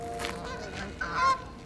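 Wild geese on a university campus honking as the flock takes off, several overlapping calls with a louder, clearer honk near the end, heard at moderate distance.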